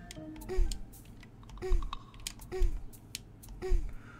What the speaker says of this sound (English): This jump sound effect makes me uncomfortable